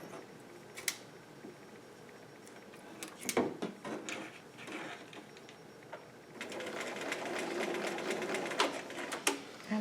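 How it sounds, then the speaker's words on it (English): Sewing machine running a zigzag stitch close to the edge of fabric with pins in it, its steady mechanical whirring heard in short bursts near the mic and then continuously, louder toward the end. "I'm just zigzagging pretty close to the edge, and I should not be running over these pins."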